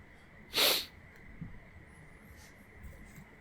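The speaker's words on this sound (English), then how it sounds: "I'm going to sneeze again." A single sharp sneeze bursts out, loud and close, over a quiet room with faint low background noise.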